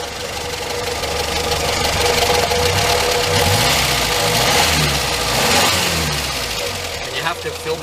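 The engine of a 1968 Morris Minor 1000 revs and rumbles with a knocking, uneven idle, steady and fairly loud, with people talking faintly over it.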